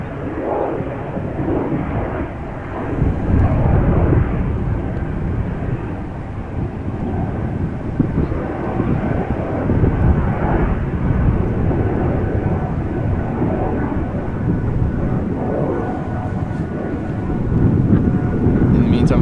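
A young Embraer E2 airliner departs Amsterdam Schiphol Airport with a sustained, rumbling engine roar that rises and falls slightly, while a voice talks over the noise.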